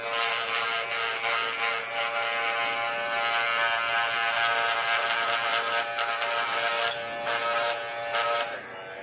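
Electric hair clippers with a short blade run on turbo over a scalp, giving a steady close buzz for the whole stretch with a few slight shifts in pitch as they move, and no voices.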